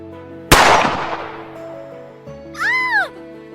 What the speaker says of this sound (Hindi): समर गोली चलाता है और शिवानी घबराकर उससे लिपट जाती है।